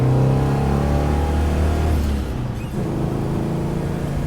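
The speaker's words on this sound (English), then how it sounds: "that just spun the tires in second at 40" A 1957 Chevy with a small block and dual carburetors accelerates hard while spinning its tires, a loud deep engine roar that eases off midway and then continues at a lower level.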